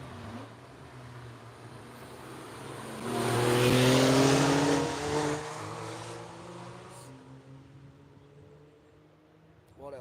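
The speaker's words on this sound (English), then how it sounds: "Here's a rare enough Porsche" A Porsche race car in racing livery drives past on a racetrack, its engine swelling from a distant drone to a loud pass and then fading away, while someone talks quietly in the background.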